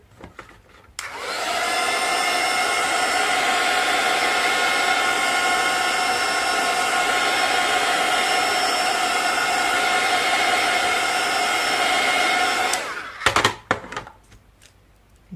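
A hair dryer blows over a galaxy-style painted background on an artist trading card, a loud steady whirring rush lasting about twelve seconds before switching off, followed by brief rustling.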